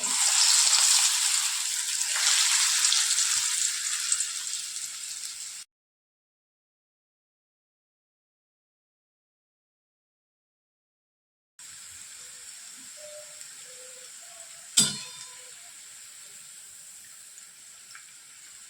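Small crispy onion bhaji fritters dropped into hot oil, producing a steady bright sizzle. The sizzle cuts out completely for several seconds, then resumes with a sharp click near the end.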